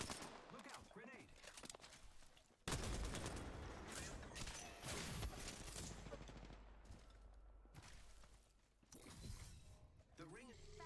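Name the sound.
gunfire from the video game Apex Legends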